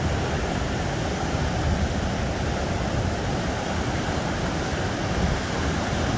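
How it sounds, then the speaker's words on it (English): Big ocean surf rolls in at Satellite Beach, Florida, in the aftermath of Hurricane Ian, a constant loud roar of breaking waves and wind-blown rush with no pauses and no talk. "Look at those waves. They're starting way out there."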